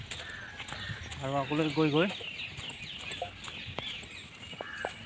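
Bird calls, with a short run of clucking or crowing notes from fowl, ring out in Indroda Nature Park in Gandhinagar over steady outdoor ambience while someone talks nearby.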